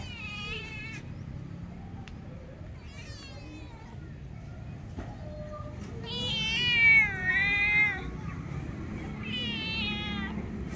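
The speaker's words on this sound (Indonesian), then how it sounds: "kucing. Mana kucing? Mau makan" A cat meows several times with rising and falling cries, loudest near the end, over low background rumble, in a home while a phone is being unboxed.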